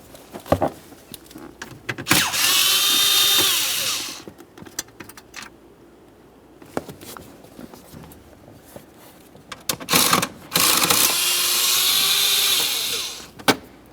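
A power tool drives out 7mm headed bolts from the plastic panel under the steering column of a 2001-2005 Ford Explorer Sport Trac, two close whirring bursts with clicks and clatter between them and a quiet gap in the middle.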